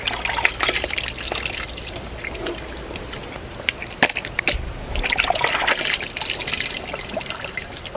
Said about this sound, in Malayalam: വെള്ളം ഒന്ന് വറ്റിച്ചെടുക്കണം.